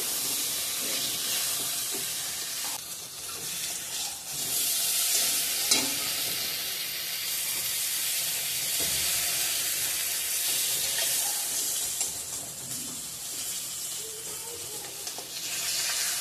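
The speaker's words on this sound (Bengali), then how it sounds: "পটল ভাজাটা বসিয়ে দিচ্ছি এখন" Pointed gourd (potol) slices fry in a pan, giving a continuous bright sizzle and hiss with occasional faint stirring clinks, steady and close with no talking.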